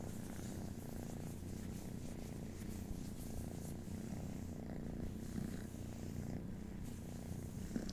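A kitten purrs continuously up close, a low, even rumble that keeps a steady rhythm without any break.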